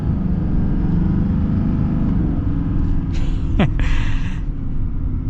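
A 2024 Chevy Silverado Dually pickup accelerates with a steady low engine rumble, loud and close, a brief sharper whoosh passing near the end.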